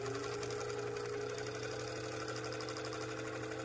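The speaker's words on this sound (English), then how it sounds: "And then you wind your bobbin." A Singer 15 sewing machine winds a bobbin with a steady, even mechanical whir and fine rapid ticking, running continuously at a constant pace with no talking.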